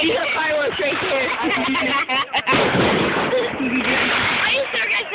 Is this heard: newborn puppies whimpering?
no